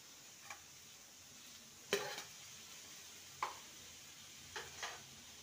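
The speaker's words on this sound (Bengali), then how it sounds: "ভালো করে মশলার সাথে নেড়ে নেব" Fried potatoes and pointed gourd get stirred into masala in a pan, a soft sizzle broken by a few sharp scrapes and clinks of the spoon, close and quiet with no talking.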